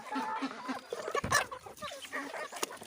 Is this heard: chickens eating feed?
yes